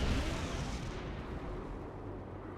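A SAM site blowing up in Tiberium Wars, a loud rumbling blast at the start that fades into a low, noisy decay.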